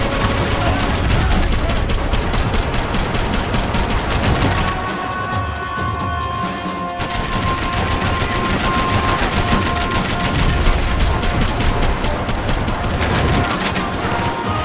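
Dense automatic gunfire in the video game Max Payne 3, a loud continuous rattle of shots that briefly drops out midway and then resumes just as hard to the end.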